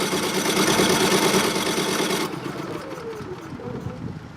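A Champion 3400 watt inverter generator with electric start, running on propane with the choke on, cranks in a fast rhythmic whir for about two seconds, then cuts out and leaves a quieter hum.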